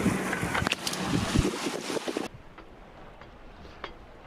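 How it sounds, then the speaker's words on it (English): Strong wind of 25 to 30 knots buffets the microphone on a sailboat with a broad rushing roar for about two seconds, then drops abruptly to a quieter, steady background hiss with occasional faint knocks. "it's a blustery day"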